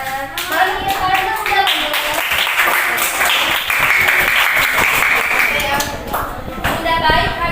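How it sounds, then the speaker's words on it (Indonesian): Students in a classroom clap together in a lively burst of many hands, rapid and uneven, with children's voices and chatter mixed in under the applause. "tepuk tangan dong untuk tanggapan temannya"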